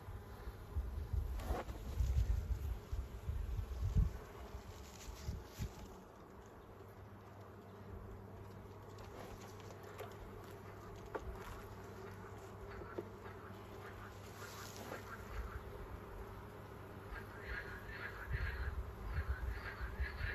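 A steady, dense buzz of many Carpathian honey bees fills the air around a hive, constant throughout with occasional faint clicks and knocks.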